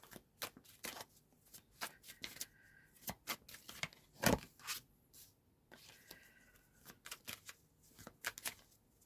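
Tarot cards are shuffled by hand close up, a run of crisp riffling bursts and soft slaps with one sharp louder snap in the middle, quiet and without speech.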